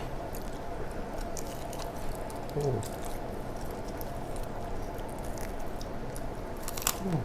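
Crispy herb-fried chicken with lemongrass, steamed before frying, crunches close up in a few crackling bites and chews over a steady background hum.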